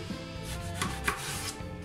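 A kitchen knife slices eggplant into strips on a cutting board for a hot Italian bruschetta appetizer, making quick, even chopping taps close up, with no voice over them.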